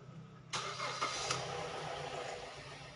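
A Mazda CX-7 with keyless ignition cranks and fires up after a short quiet stretch, then settles into a steady idle, heard close and alone.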